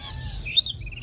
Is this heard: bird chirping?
yes